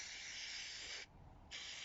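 Spray adhesive hissing from a can onto a campervan panel in two steady bursts separated by a short pause, close and fairly quiet, with no voices.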